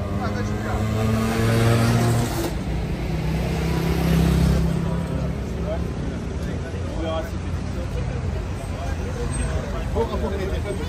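Car traffic on a busy Marrakech street, with a steady rumble of engines and passing vehicles, people talking over the din throughout.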